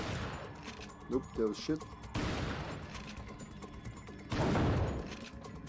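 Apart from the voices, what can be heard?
gunshots in Resident Evil 4 video game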